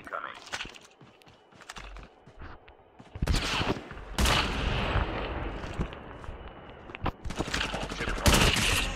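Rapid bursts of gunfire from a battle royale video game, ranging from scattered single shots to dense, loud volleys that build toward the end, with a voice talking underneath at times.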